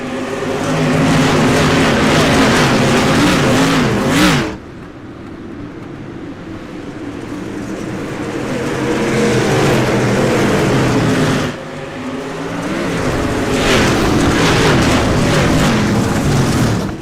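Dirt street stock cars race at Oswego Speedway, a loud, sustained roar of engines that swells as the pack passes close, drops away sharply twice, then builds again.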